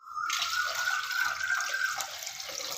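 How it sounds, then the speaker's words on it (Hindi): Water pours steadily into a wok for a few seconds, a continuous splashing gush that stops abruptly at the end. "इसमें हम डालेंगे पानी।"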